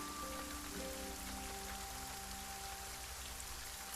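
Steady rain falling and pattering on surfaces, a constant soft hiss with scattered drops, faint and alone with no voices.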